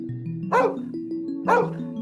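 Two barks from a dog about a second apart, each cutting through a droning musical tone.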